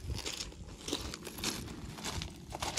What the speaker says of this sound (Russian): Они чавкают.